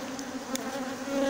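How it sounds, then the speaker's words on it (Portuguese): Honey bees buzz steadily around a frame pulled from a hive, a close continuous drone with a few louder passes, no talking. "de limpar um pouquinho as abelhas"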